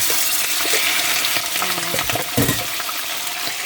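Steady crackling sizzle of chicken frying in a pan, with a few clinks and stirring scrapes partway through; no voices.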